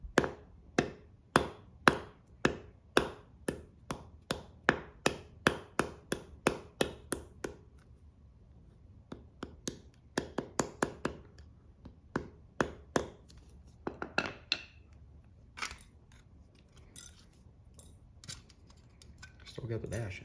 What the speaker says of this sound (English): Take the hammer, and you try not to whack your finger.